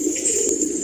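Patiala pigeons coo softly in a loft in a city colony, a low steady murmur of several birds close by, with no voices.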